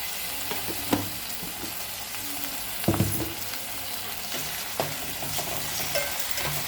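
Onions frying with ginger garlic paste in a pan, a continuous soft sizzle broken by a few scattered clacks of the spatula, close by, with no voices.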